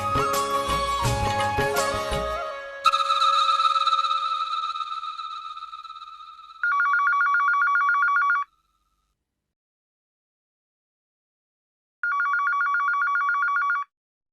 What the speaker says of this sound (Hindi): मैं फोन मिलाता हूँ